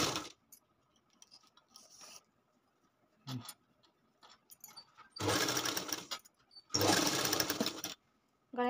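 A sewing machine stitching piping onto the neckline of a lined katori blouse runs in two loud, close bursts of rapid whirring, with scattered faint ticks and clicks of handling the fabric in between.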